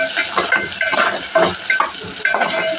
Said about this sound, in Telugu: కట్ చేసి పెట్టుకున్న ఉల్లిపాయ ముక్కలు కాస్త ఫ్రై చేసుకోవాలి.